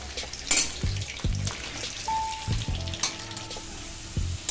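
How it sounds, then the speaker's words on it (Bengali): Large potato chunks fry in oil in a wok with a continuous crackling sizzle, punctuated by several soft clunks and scrapes as the pieces are turned, close and without talk. "সেগুলোকে কড়াইতে দিয়ে ভালো করে ভেজে নেব।"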